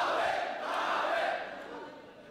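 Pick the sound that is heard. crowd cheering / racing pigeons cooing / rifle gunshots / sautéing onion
crowd cheering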